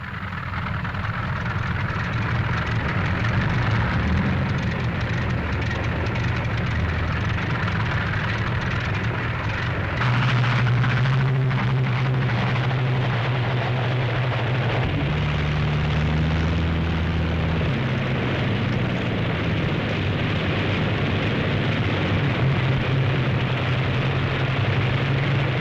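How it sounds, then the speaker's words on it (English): Radial engines of P-47 Thunderbolt fighter planes start and run up for takeoff on a 1943 airfield. A loud, steady propeller drone fills the whole stretch, with deeper engine tones shifting in as more engines catch. "Six minutes after the first engine starts, the first squadron must begin the takeoff."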